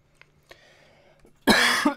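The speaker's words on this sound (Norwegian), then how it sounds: "Jeg hater den hostingen min." Someone coughs in a sudden loud, close burst after near silence, followed by a second short cough.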